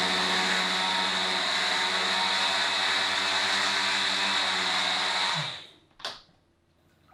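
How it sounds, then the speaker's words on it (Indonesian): An electric blender grinds rendang spices with a loud, steady, high-pitched whir for about five seconds, then winds down and stops, leaving a brief clatter and near silence. "tapi kita mah edisi milenial aja pakai blender"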